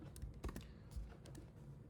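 Faint keystrokes clatter on a computer keyboard in short, irregular bursts of quick taps with small pauses, quiet and close, with no voices.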